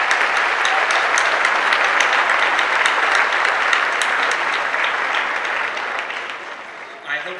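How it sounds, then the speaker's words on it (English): A commencement audience gives the teachers a round of applause, dense and steady at first, then thinning and fading near the end. "I ask my classmates to join me in a round of applause."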